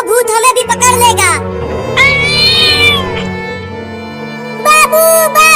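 A large cat crying out in a cartoon scene, loud drawn-out wailing meows in several bursts, with a voice talking between the cries.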